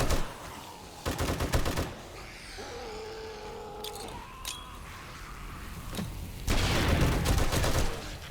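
M60 machine gun fire in 7 Days to Die during a zombie fight, with loud rapid bursts at the start and end separated by quieter ambient noise and brief, thin sounds.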